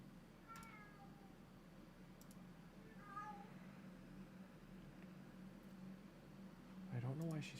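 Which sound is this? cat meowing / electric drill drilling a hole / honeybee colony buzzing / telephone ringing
cat meowing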